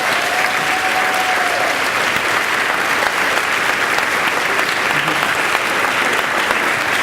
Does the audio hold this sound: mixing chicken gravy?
no